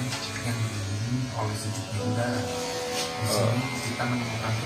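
Electric hair clippers buzz steadily and close by while cutting hair at a barbershop, with people talking over the continuous hum.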